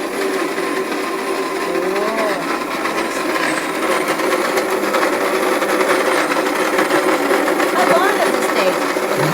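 An electric coffee grinder runs steadily, grinding coffee beans with a loud, continuous whirring drone that builds slightly toward the end, with voices faintly audible over it.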